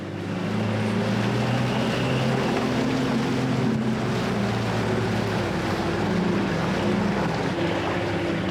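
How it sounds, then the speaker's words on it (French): Heavy trucks grind along a narrow Himalayan mountain road at the edge of a ravine, a loud, steady, low engine drone with humming harmonics that continues without pause. "Les routiers font avancer leurs poids lourds au ras du ravin."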